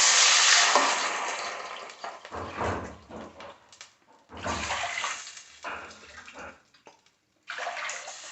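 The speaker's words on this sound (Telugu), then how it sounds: "ఒక 5 కప్పులు దాకా వాటర్ వేసుకోవాలి" Water pours in bursts into a cooking pot holding rice for chicken dum biryani, a loud rushing gush at first, then several shorter splashing pours with brief pauses between them.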